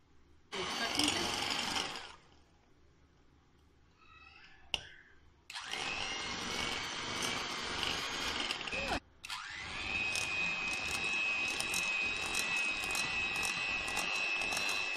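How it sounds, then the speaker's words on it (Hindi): An electric beater whips sugar and ghee for nankhatai dough, its high motor whine starting and stopping in bursts, then running steadily for several seconds close by. "मैं इलेक्ट्रिक बीटर से कर रही हूँ"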